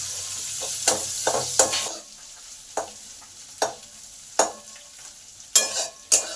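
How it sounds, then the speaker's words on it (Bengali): Chopped onions sizzle in a pan of garlic, half-frying for a Bengali fish-head and cabbage ghonto. A steady hiss is broken by repeated sharp spatula strikes and scrapes against the pan, with no talk. "এবার পেঁয়াজ কুচানোটা আছে সেটা দিয়ে দিলাম। পেঁয়াজগুলোকে হাফ ভেজে নেব।"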